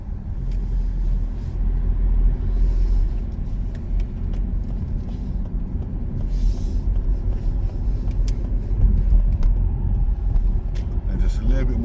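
A car pulls away during a driving lesson, its engine a steady low rumble that swells slightly as it gains speed, heard from inside the cabin with talking over it.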